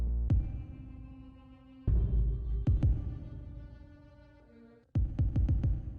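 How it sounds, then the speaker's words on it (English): Deep, muffled kick drum hits in an emo trap beat, a regular kick with heavy reverb and a filter, a few scattered thumps and then a quick cluster, each trailing off into a long reverberant low-end tail. "that's just a regular kick with a ton of reverb on it and a filter"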